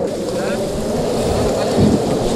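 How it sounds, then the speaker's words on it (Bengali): Heavy rain and a storm roar over the Meghna river, with a dense, steady wash of rain and wind and a deeper rumble swelling near the end. "দেখতে পাচ্ছেন বৃষ্টির অবস্থা"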